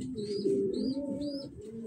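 Pigeons coo close by in soft, rolling repeated calls, with a few faint chirps over a steady low murmur.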